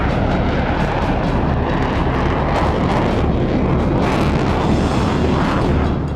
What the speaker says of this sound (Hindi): यूएस एयरफोर्स के इस परमाणु बम वर्षक ने अपनी पहली उड़ान भरी।